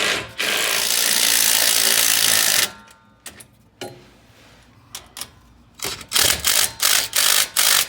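A hand tool tightens the bolts on a Jeep JK front drive line. A burst of steady rushing noise gives way to scattered metallic clicks, then a run of sharp, regular clicking bursts close by.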